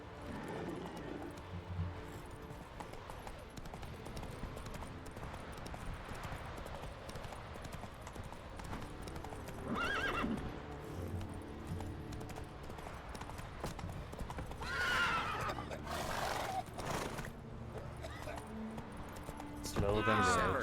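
Roach the horse in The Witcher 3, hooves clip-clopping in a steady walking rhythm with a neigh toward the end, under someone talking.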